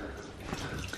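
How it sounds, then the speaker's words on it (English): Tap water runs steadily for washing a foot, a close, even hiss of flowing water with a slight splash. "So next step, run the water."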